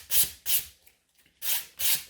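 Gel nails are filed with a nail file during a salon gel rebalance: four short, close rasping strokes in an uneven rhythm, with a brief quiet gap in the middle.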